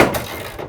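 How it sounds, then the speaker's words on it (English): A sudden sharp crack as a rivet nut fails under a wrench, like metal giving way under strain, followed by a brief rattling scrape that quickly dies down. "that was the sound of the riv nut failing,"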